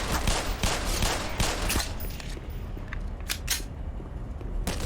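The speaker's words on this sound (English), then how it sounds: "Let's see if I can hit him with the pistol." Pistol shots in Black Mesa fire in a quick irregular burst of sharp cracks, several in succession, then a few more spaced shots after a short pause, loud and close.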